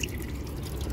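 Water dripping from an air-to-water machine that draws moisture from the air, a brief close patter of liquid over a steady low background hum.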